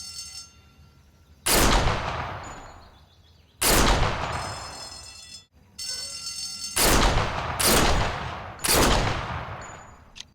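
Five loud pistol shots ring out at a shooting range in the Sniper Elite VR game. Each crack is sharp and close, spaced a second or two apart, and leaves a long booming echo that fades before the next shot.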